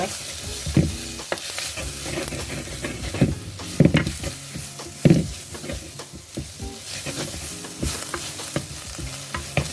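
Tomatoes for a coconut milk fish curry sauté on a low flame, a steady soft sizzle with repeated stirring scrapes and spoon knocks against the pan, close and alone with no voices.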